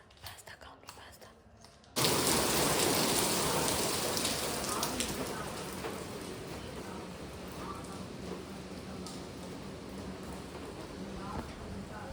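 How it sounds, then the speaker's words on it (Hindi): Heavy rain bursts in suddenly after a quiet opening, becoming a loud, dense, steady downpour hiss that eases only slightly toward the end. "बारिश आ रही है, एकदम इतनी तेज़ हो रही है, फिर एकदम से धीरे हो जाती है"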